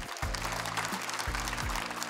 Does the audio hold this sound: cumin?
no